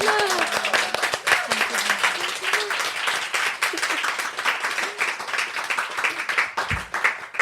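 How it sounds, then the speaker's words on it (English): Audience applause at a bookshop author event, steady clapping from a small crowd throughout with voices talking over it. "Can we all give a round of applause to Anna?"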